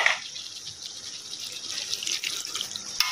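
Broth splashes and trickles in a short, steady stream as it is poured into a catfish (magur) curry in a cooking pot, lasting about three seconds.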